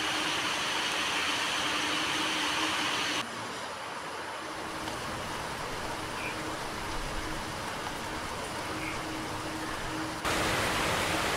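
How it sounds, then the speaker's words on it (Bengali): Heavy monsoon rain pours down in a dense, steady hiss close by, continuous throughout with a slight drop in level midway and no voices. "কিরকম বৃষ্টি পড়ছে দেখো, ঝমাঝম করে"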